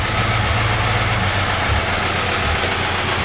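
Scion FR-S engine idling with a Tomei UEL header fitted, a steady low rumbling drone held continuously at close range, no voices over it.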